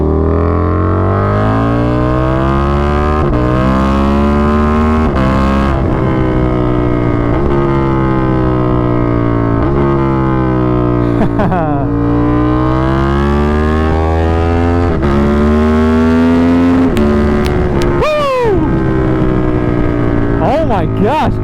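A KTM 1290 Super Duke R motorcycle, dyno tuned, rides hard with a loud, steady engine drone that climbs and falls through repeated gear changes and quick downshifts with blips, heard close up from the rider's position.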